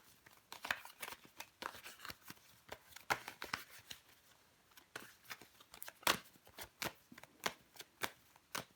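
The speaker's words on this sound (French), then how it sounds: "on va recouvrir des cartes" Tarot cards are handled and laid down on a table: a string of quick, crisp snaps, slaps and flicks at an irregular rhythm, close and fairly quiet, with no talking.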